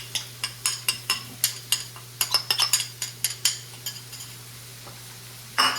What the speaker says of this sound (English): We grab that flavor mix from earlier, and we're just going to mix it in here.